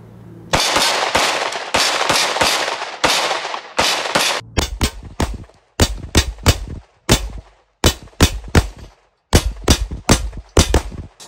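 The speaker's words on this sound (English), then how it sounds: "I think we need to unload a whole magazine into them." A full magazine of 9mm pistol rounds fired at triangular steel body armor plate, sharp loud shots coming singly and then in quick irregular bursts, each with a ringing metallic crack, no talking.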